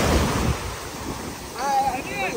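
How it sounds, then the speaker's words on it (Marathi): Ocean surf rolls in at Calangute Beach, Goa, a continuous broad wash of breaking waves roughed up by wind buffeting the microphone, swelling again toward the end. "एक नंबर आहे बघा लाटा बिटा फुल फॉर्म में जबरदस्त."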